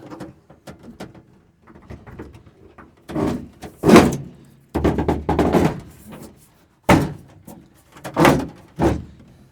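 Door on a 1947 International truck being swung and shut, giving several solid metallic thunks and clunks amid scattered clanks and handling noise close by, with no talk.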